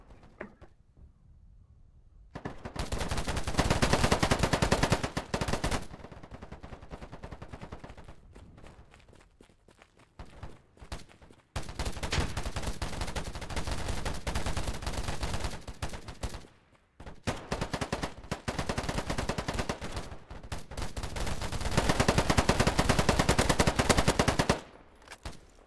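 Automatic gunfire in the free-to-play shooter game Polygon comes in long, loud, rapid bursts separated by brief lulls, the rattling fire rising again each time and heard close up.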